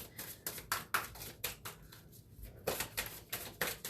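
Tarot cards are shuffled by hand in quick, rhythmic riffling bursts, a steady run of soft papery flicks close up with a short pause midway.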